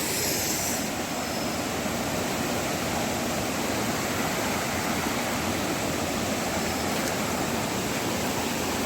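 Chaulabhaja Waterfall in Simlipal, Odisha, pours with a steady, dense rushing roar that stays loud and unbroken throughout, with no voices.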